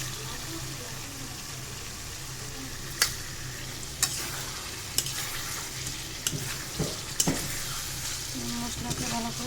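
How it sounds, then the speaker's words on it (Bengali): Prawns frying in a pan on a lowered flame, a steady broadband sizzle throughout with several sharp clinks and scrapes of stirring, close and moderately loud. "চিংড়ি মাছগুলো দিয়ে দিতেছি।"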